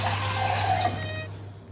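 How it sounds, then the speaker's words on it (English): Cold tap water runs into a bowl in a home kitchen, a steady close splashing stream that tapers off as the flow stops. "And a bit of cold water, so it'll be tepid."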